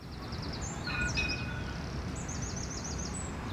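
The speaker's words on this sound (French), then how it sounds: "On entend les oiseaux." Birds sing in short chirping trills near a tram line in Avignon, faint over a low city hum, with a few quick whistled phrases rising above the background.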